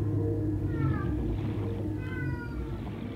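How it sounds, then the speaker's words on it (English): A house cat meows plaintively twice over steady game music, with drawn-out, rising and falling mewing cries that sound faint and distant behind the louder music bed. "one of my cats sounds so sad"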